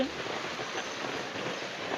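Steady rain falls after several dry days on a vegetable garden in Kerala, a continuous even hiss of drops with no break throughout.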